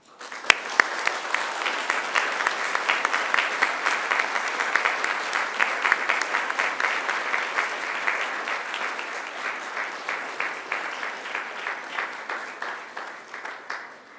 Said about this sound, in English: join me in giving them an almighty round of applause